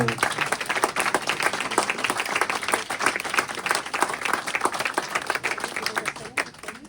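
Sustained audience applause at an association awards ceremony, dense clapping from many hands continuing evenly throughout without speech.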